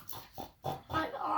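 A person makes short oinking pig noises with their voice, imitating a pig during puppet play, in four quick bursts at close range.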